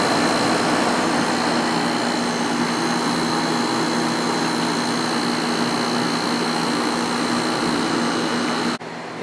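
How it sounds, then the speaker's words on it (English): Fan motors of a Sharp 10,500 BTU air conditioner running on high: a loud, constant airy roar with a steady hum, cutting off sharply right at the end. "I'll go up to high. These are pretty efficient fan motors"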